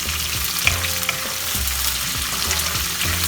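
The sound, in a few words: onions and green chillies frying in a pan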